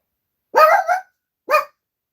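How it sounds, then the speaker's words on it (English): A dog barks close by indoors: one loud bark that breaks into two parts, a pause, then a second shorter bark, with silence around them. "What? What? What are you barking at?"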